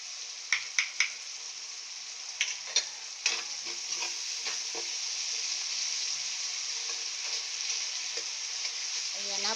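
Tomatoes crushed in a hot pan for meatless pinakbet give a loud, steady sizzle throughout, punctuated early on by several sharp clicks and taps of a utensil against the pan.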